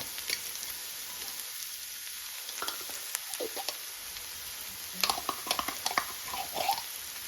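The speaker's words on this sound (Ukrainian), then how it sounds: "Смажимо до золотавого кольору" Steady sizzling of carrots and onion frying in a pan until golden, with occasional stirring scrapes and pops throughout, no talking.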